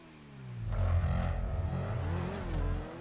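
A sports car engine revs up and eases off in GTA V, two rising surges of throaty engine tone close by, with no voices over it.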